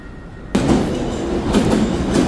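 London Underground train on the line toward Covent Garden, a sudden loud rumbling roar of the train with rhythmic clatter, close and continuous, no talking.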